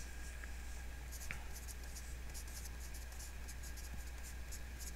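Pen writing on paper while working a physics problem, faint close scratching strokes in short irregular bursts over a steady low hum.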